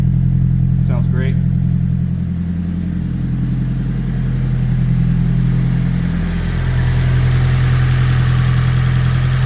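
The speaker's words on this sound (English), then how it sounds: "Runs extremely smooth right from the startup, right from cold start." Close by, a 1995 Nissan 180SX Type X with an SR20DET engine and aftermarket exhaust idles from a cold start with a low, even exhaust rumble that holds steady throughout, with a brief voice near the start.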